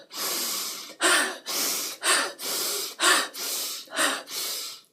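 A voice imitates fast, tense breathing: eight quick, loud breaths in a steady rhythm, close to the microphone with short silent gaps between them.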